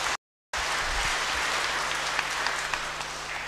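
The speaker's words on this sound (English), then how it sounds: "Let's clap for them again." A church congregation claps during Sunday notices and announcements, a dense, steady round of applause from many people that continues evenly after a brief dropout at the start.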